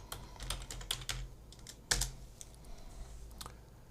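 Quick bursts of keystrokes on a computer keyboard, close and crisp, with irregular clusters of taps and a brief pause midway before typing resumes.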